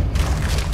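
Casting the Depulso force spell in Hogwarts Legacy produces a short, dull whooshing boom, a dense low rumble that holds steadily for under a second with no talking over it.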